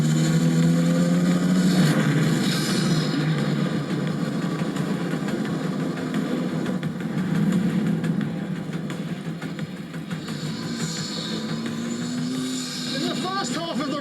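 An Ariel Atom 4R turbocharged open-wheel sports car sits idling with a steady, droning engine note, then revs slightly toward the end, while someone talks over it throughout.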